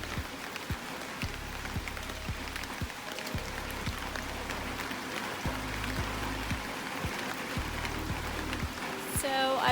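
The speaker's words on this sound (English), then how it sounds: "This rain is way harder than the rain from Sunday." Heavy, torrential rain pours steadily on the Appalachian Trail in Maryland, a dense hiss of drops with occasional louder drips and patters close by, continuous throughout with no talk.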